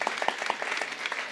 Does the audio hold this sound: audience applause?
yes